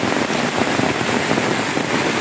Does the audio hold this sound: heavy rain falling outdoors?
yes